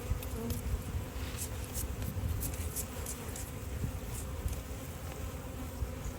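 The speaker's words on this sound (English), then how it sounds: "the method is you shake the bees off and then brush them off" Honey bees buzz in a dense, steady drone close to the microphone while a hive is being inspected and frames are pulled, with the swarm's hum continuous and fairly quiet.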